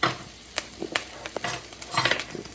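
Shrimp frying in a pan, crackling and popping in irregular bursts with brief hissing whistles, close and moderately loud, with no voices.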